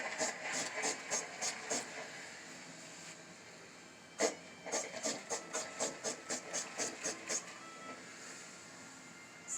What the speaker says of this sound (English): Yeah, I sure do see all that steam.